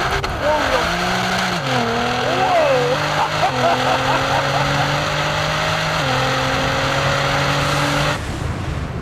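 A 1000-horsepower Nissan GT-R street car launches hard from a standstill, its engine note climbing steadily through the gears with audible shift dips, loud and close throughout until it cuts off near the end.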